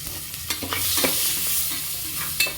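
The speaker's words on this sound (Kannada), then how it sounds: "ಸೊ ನಾಟಿ ಈರುಳ್ಳಿ ಹಾಕ್ತಾಯಿದ್ದೀನಿ." Country onions stir-fried in a pan while cooking a village-style boti gojju, with a soft ongoing sizzle and several sharp scraping stirs of a spatula, fairly quiet and close, no talking.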